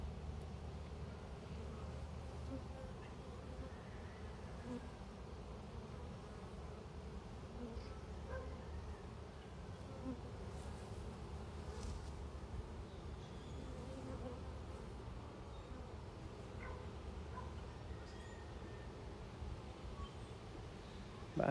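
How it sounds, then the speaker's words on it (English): A swarm of bees hums around an open wooden box of bees outdoors, a faint, continuous buzzing that stays steady throughout, with individual insects droning close by now and then. "you got your box of bees"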